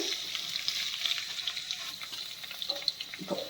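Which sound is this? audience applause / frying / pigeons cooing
frying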